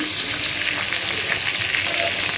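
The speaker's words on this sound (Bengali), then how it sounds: "রাত 10টা বাজে, এখন আমি রান্না করতেছি।" Food frying in a pan at night, a steady close sizzle that runs the whole time with no breaks and no talking.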